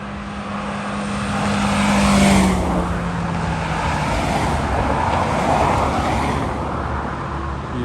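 A loaded Peterbilt 579 gas hauler truck climbs a steep hill with a loud, steady engine roar and a low droning whine that builds and then holds as it passes nearby, with no voices.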